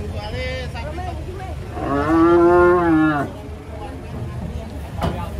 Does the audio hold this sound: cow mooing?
yes